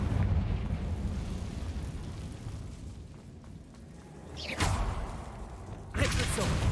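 A Confringo fire spell from Hogwarts Legacy bursts out as a loud whooshing blast, followed by a second sharp explosive burst over a low rumbling game ambience.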